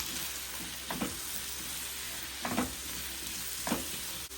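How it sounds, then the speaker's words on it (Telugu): Green tomatoes with garlic, salt and turmeric cook in a pan with a steady close sizzle, broken by three soft stirring scrapes spaced about a second apart, with no talking. "ఈ టమాటా కాయలు ఉడుకుతూ ఉంటాయి"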